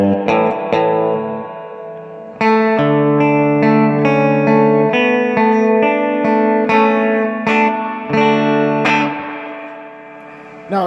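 Clean electric guitar tone from an American Standard Telecaster played through a Fender Deluxe Reverb amp, strummed chords and ringing notes in a steady phrase with a short pause near the start, loud and alone.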